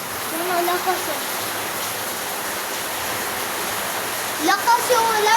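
Heavy rain roaring in a dense, steady wash, with voices speaking briefly over the downpour near the start and again at the end.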